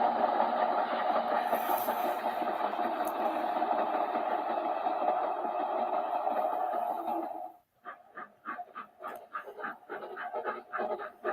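Model railway train emerging from a tunnel on a layout: a steady, loud mechanical rumble and whir runs for about seven seconds, then cuts off, followed by a series of lighter rhythmic clicks and clacks.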